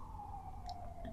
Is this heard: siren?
yes